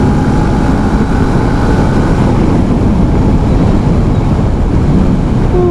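A Cfmoto 650GT motorcycle pulls hard in fifth gear, its engine drone buried in heavy, constant wind roar close to the microphone.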